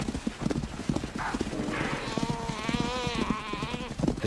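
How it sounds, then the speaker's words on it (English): A herd of hoofed animals gallops in a rapid drumming rush while a lioness flushes it toward a waiting catcher on open ground, the thudding hoofbeats carrying under a whining drone of flies. "Her heavy footsteps flush the herd towards the catcher."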